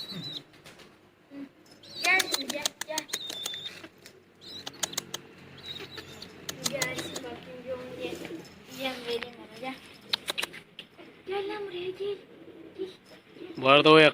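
Dumanlı pigeons kept outdoors give soft coos amid bursts of wing flapping and fluttering, irregular and close, with someone talking over them at intervals.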